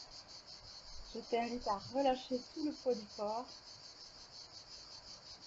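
Cicadas sing in a continuous high buzzing chorus through a calm summer scene, steady and moderately near, while someone speaks softly over it.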